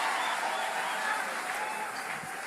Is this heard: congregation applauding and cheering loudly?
yes